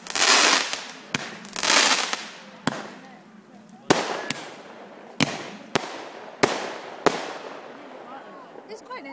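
Fireworks go off near a bonfire in a series of sharp, loud bangs at irregular intervals, some with crackling bursts between them, and people talk faintly in the background.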